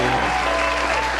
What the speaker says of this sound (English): Cue those applause